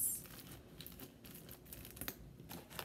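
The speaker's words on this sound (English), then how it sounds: "It's really crunchy." Crisp crunching and crackling as crunchy slime is squeezed, a series of small pops and crinkles up close, no talking.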